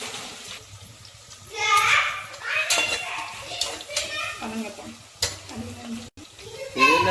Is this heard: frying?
yes